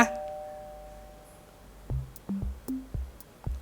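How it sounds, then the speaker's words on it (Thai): A notification bell chimes in a short series of bright dings, each with a low thump beneath it, clear and close after a fading tone at the start. "และกดกระดิ่ง กรุงกิงกรุงกิงด้วยนะคะ"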